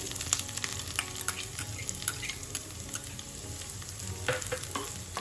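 Chopped onion fries in a pan for idli chutney, a steady close sizzle with scattered crackles and light stirring scrapes, heard alone without voices.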